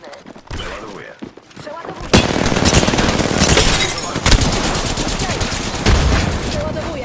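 Sustained rapid automatic fire from an R-99 mixed with heavy Mastiff shotgun blasts in Apex Legends, loud and close, erupting after a brief quieter moment and continuing densely, with a voice speaking beneath.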